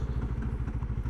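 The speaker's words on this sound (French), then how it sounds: "l'ABS, ça ralentit très bien la moto" A Mash FR750 motorcycle brakes with ABS engaged, producing a rapid, regular pulsing thump from the braking system under a low engine rumble, close and brief.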